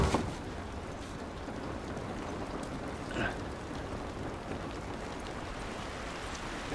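Steady rain falls in the video game The Last of Us, a dense, even hiss of drops with a faint rumble briefly swelling partway through, no voices.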